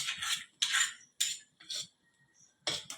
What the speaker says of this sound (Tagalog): Mix with the oyster sauce.